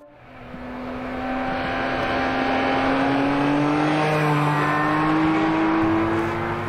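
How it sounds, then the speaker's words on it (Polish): A 2022 BMW K 1600 Grand America touring motorcycle with a large six-cylinder engine hums steadily while riding. The smooth, loud drone slowly climbs in pitch as the bike accelerates, with no voices. "Ten ogromny sześciocylindrowy silnik jest stworzony do podróżowania."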